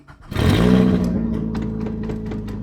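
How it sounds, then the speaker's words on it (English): A Scion xB engine with a major exhaust leak starts and revs up loudly nearby, then settles into a rough, raspy, steady drone with faint clattering. "the exhaust is broken, so there's like a major exhaust leak."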